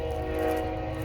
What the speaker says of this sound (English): Man, that was the longest train ever.